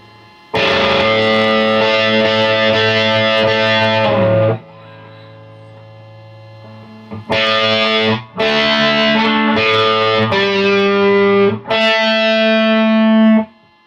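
A distorted electric guitar plays a short riff of sustained, ringing chords with a brief quieter note between strums, loud and close.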